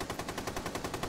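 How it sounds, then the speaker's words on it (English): Rapid automatic gunfire in Rainbow Six Siege during a competitive college match, a steady burst of evenly spaced loud shots filling the whole moment with no talk over it. "Gunfire going on."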